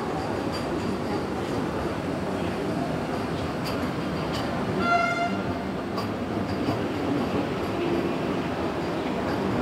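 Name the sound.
Hazrat Nizamuddin–Khajuraho Vande Bharat Express train arriving at station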